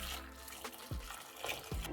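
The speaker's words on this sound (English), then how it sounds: "Boiling water." Water boils in a pot on a stove, giving soft bubbling and faint gurgles with a couple of low thumps, quiet and close.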